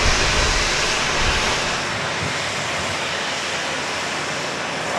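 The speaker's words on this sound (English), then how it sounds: "That's a loud plane." A loud airplane roars at Dallas Love Field, a dense, steady engine rumble and rush that fills the whole stretch, close and overpowering, with no voices.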